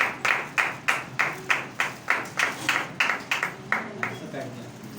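A single person claps rhythmically about a dozen times, evenly spaced and close, fading slightly toward the end, as a speaker is welcomed at a church gathering.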